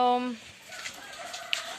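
Chickens being fed rice mixed with dried fish cluck and call close by, with a drawn-out crow-like call at the start, then scattered softer clucks.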